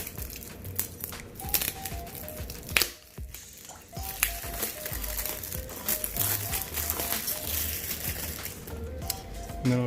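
Cardboard packaging and plastic wrap crinkling and crumpling close up while a Howl Byte camera box is opened, a steady run of rustles, crackles and squishes with no talking.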